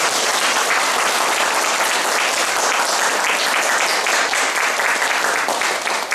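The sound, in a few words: big round of applause for the lecturer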